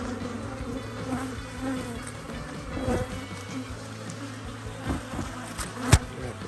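Honey bees buzz around an open hive during beekeeping, a close, continuous droning hum with individual bees passing near and a few sharp knocks, no talk.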